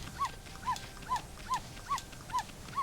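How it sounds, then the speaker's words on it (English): The white wolf Amaterasu in the Okami HD game gives a run of short, high yaps, seven of them at an even, quick pace, each one clear and close over a faint game background. "Yappy Amaterasu."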